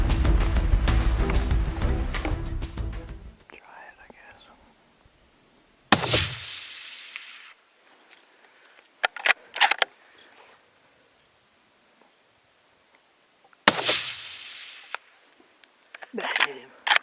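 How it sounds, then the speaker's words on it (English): Gunshots from a caribou hunt in the Alaskan wilderness: two loud, sharp reports several seconds apart, each with a ringing decay, alongside brief clicks and muffled handling noise. Talk is heard at the start. "A lot of shooting and a lot of stress, but we got him down."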